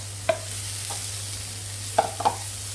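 Cabbage is stir-fried in a pan for spring roll filling, giving a low steady sizzle, with a few sharp scrapes and clinks of the spatula stirring at intervals.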